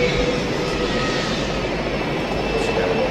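Helicopter in a video game with its rotors being kicked back in, giving a loud continuous engine and rotor drone that runs steadily throughout.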